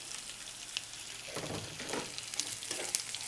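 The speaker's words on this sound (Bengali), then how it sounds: "পেঁয়াজ রসুনটাকে একদম বেরেস্তা করে ভেজে নিতে হবে" Chopped onion and garlic frying in soybean oil with black cumin seeds, a quiet, steady crackling sizzle with a few louder bursts of spitting midway, heard close and alone.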